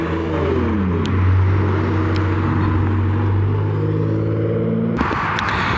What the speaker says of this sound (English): Got the Lotus Evora 400 and the Nismo 370 rolling out.